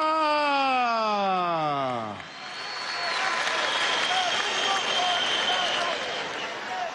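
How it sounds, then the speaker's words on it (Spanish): Crowd applause for Supercilita at a commune gathering, a dense steady clapping that swells in after a voice and holds loud to the end. "Sí, le damos un aplauso a Supercilita,"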